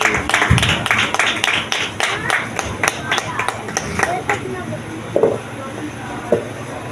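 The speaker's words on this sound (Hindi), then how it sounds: "हाँ आप सबकी भरपूर तालियों में जॉयल अरशद और शॉन इमरान" A church audience at a Christmas celebration applauds children, with rapid, close claps for several seconds that thin into scattered claps while people talk.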